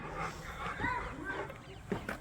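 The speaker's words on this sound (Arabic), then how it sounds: "اخوان في عندهم الكلاب الروتفايلر الامريكي." Faint, close sounds from an American Rottweiler, such as brief whimpering and panting, come in short bursts, mixed with quiet voices.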